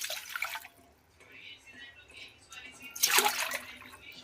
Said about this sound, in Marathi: आता आपण ह्याच्यामध्ये पहिलं पाणी घेऊया